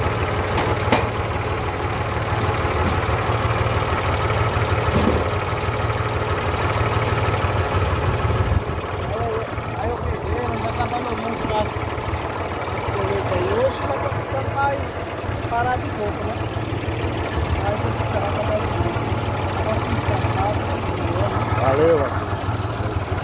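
A 2001 Valtra Valmet tractor engine idles in a steady low rumble with mild knocking vibration, running continuously under Portuguese conversation from nearby men.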